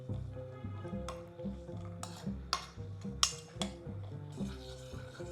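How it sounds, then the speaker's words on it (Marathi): Spoon scraping and clinking against a pan while jaggery melts in ghee, irregular close metallic taps and scrapes with faint cooking hiss. "फक्त विरघळेपर्यंतच आपल्याला तुपावर या प्रकारे परतून घ्यायचं आहे"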